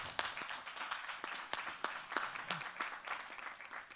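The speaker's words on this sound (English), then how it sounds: "could you please give a big applause to all the people?" Steady audience applause at a conference session on rural and urban sanitation in Africa, even continuous clapping with scattered sharper claps, somewhat distant and moderately quiet.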